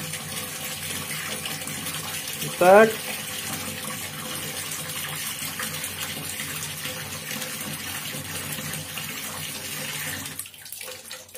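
A kitchen tap opened fully, running water in a steady broadband hiss for about ten seconds, with a brief spoken word near the start before the flow cuts off at the end.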